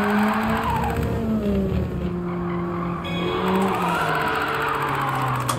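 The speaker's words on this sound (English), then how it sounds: "We'll actually try to get a little drift here." A 200 hp Nissan S13 with an angle kit drifts in Gran Turismo 7, its tires squealing loudly in long wavering tones over a steady engine drone, with no talking.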